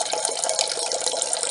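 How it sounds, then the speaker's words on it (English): Water runs from a kitchen tap into a pan in a steady, loud, close gush. The splashing stays constant the whole time and nothing else is heard. "Just getting some water"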